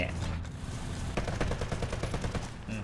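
Gunfire rattles in a War Thunder tank battle involving an Strv 105, a quick burst of sharp repeated shots over in-game rumble, with a voice talking faintly underneath.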